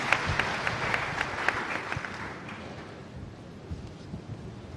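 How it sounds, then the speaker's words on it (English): Applause from a crowd, loud at first with dense clapping that gradually fades to a softer, scattered patter. "A round of applause for Nana Hima, please."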